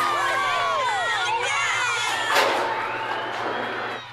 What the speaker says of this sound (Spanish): el sonido más bello del mundo. Niños gritando.